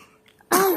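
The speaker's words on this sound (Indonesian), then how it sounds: "Batuk ini loh." A sick young child coughs once, a short close harsh burst after a quiet moment, loud and alone without speech.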